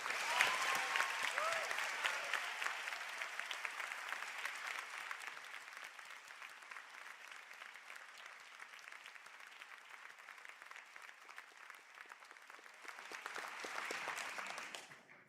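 A hall full of people applauds graduates at a Sligo and St Angela's conferring ceremony, with steady, sustained clapping that thins a little midway and swells again before ending abruptly.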